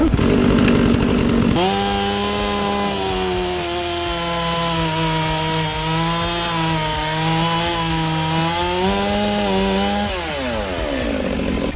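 A Stihl petrol chainsaw roars to life after a short rattle and runs loud and close for about ten seconds, its engine pitch dipping and rising under load as it cuts wood, then winding down at the end.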